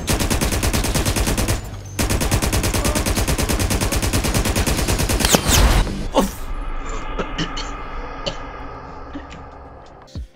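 A light machine gun fires in the video game GTA RP: a long, rapid, evenly spaced burst of loud close shots, followed by scattered single cracks and clatter as the firing tails off.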